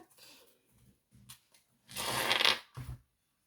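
Small guardian angel tarot advice cards shuffled in short bursts close by, a few soft riffles and a longer louder flutter of card edges, with quiet gaps between.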